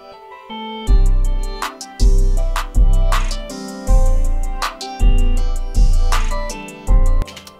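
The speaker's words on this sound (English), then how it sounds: "I ended up coming up with a really dope beat at the end" A self-made trap beat built in FL Studio plays loud and alone, with booming 808 bass hits landing in a steady rhythm about every second, under crisp hi-hats and bright melodic stabs.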